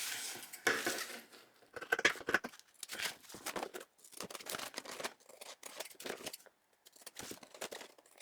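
Scissors snipping out fabric pattern template pieces for a caravan sewing project, a series of close, crisp cutting strokes with brief rustling pauses between bursts.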